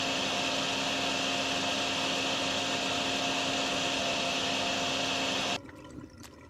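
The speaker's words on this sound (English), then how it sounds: "we're just going to come in with our water vacuum" Water vacuum running in the Drain Sim video game, a steady loud broadband suction roar with a faint whine that holds constant for over five seconds, then cuts off abruptly into quiet.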